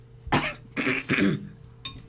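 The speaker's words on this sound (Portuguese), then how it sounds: "vou tossir" Three harsh, bursty coughs in quick succession, close and loud, followed by a fainter fourth cough after a short pause.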